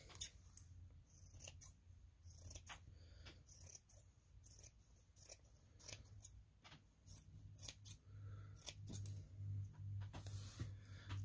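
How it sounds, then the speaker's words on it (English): Scissors snip through fabric while a Christmas pillow is being sewn, a series of close, crisp cuts in quick irregular bursts over a soft low background hum, no talking. "I'm just going to use my scissors."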